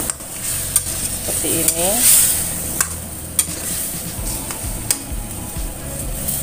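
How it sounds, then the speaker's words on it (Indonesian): Water goes into a hot pan of chicken stew with potatoes and carrots, setting off a close, loud hiss and sizzle with occasional sharp utensil taps, and a voice speaks briefly. "Lalu kemudian tambahkan sedikit air. Ini fungsinya supaya tidak gosong ya"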